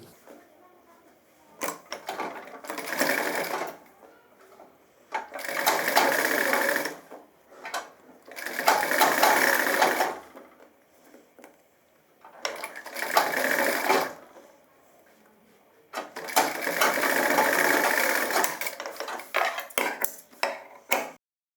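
A tailoring sewing machine stitching the fly of a gents' trouser, running in five bursts of steady whirring stitches of a few seconds each, separated by quiet pauses, close and loud.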